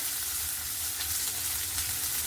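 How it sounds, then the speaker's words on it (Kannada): Chopped onions fry in hot oil with grated ginger and green chili, a loud, steady close sizzle with light stirring throughout and no voices. "ಈಗ ಸ್ವಲ್ಪ ಈರುಳ್ಳಿ ಹಾಕೋತೀನಿ."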